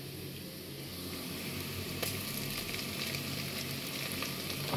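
Ginger garlic paste fries in a pan with a steady, continuous sizzle at moderate loudness, with faint stirring scrapes and no speech.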